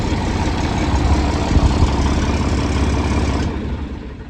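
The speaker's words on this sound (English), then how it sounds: "Shut our tractor off and let's go feed." A Kubota tractor engine idles steadily nearby on a cattle farm, a low continuous chugging rumble that fades slightly at the end.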